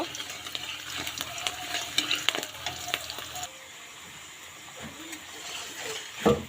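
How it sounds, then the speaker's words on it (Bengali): Potatoes fry in hot oil for biryani, a close sizzle with clattering stirs that is busy at first, then settles into a quieter crackle, ending in a sharp utensil knock. "এখন এর ভিতরে আমি আলু দিয়ে দেবো আলুটা আমি লাল লাল করে ভেজে নিব"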